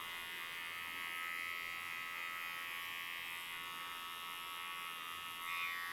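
A quiet electric hair clipper fitted with a guard comb, its lever set high, buzzes steadily while trimming the transition of a textured undercut. The thin, even hum runs alone with no talk.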